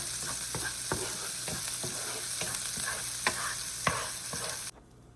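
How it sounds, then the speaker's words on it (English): Lentils frying and being stirred in a pan for vegan pancit, a steady close sizzle broken by repeated scraping stir strokes, ending abruptly. "We're gonna fry this for at least 10 minutes."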